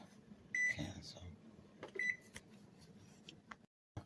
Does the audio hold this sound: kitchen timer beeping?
yes